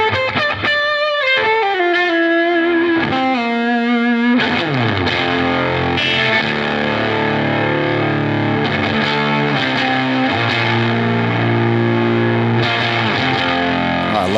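High-gain distortion pedal on electric guitar at full force, opening with a few sustained bent single notes and then dense, saturated chords with long sustain, loud and continuous throughout.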